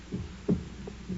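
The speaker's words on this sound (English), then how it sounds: "for many minutes, the heart beat on with a muffled sound" Muffled heartbeat effect from a radio drama horror scene, a few soft low thuds spaced irregularly over a steady hum, with one stronger beat in the middle.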